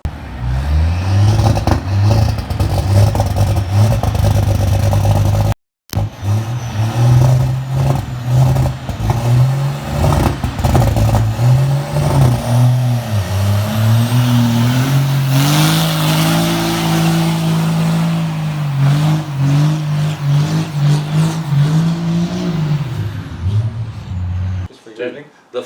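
A diesel truck engine revs and climbs in pitch under load as a Garrett turbo spools, loud and close, with a voice talking over it.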